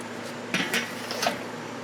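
A metal cover is lifted off a grill holding a smoked turkey meatloaf, with a few close metallic clanks and a light scrape.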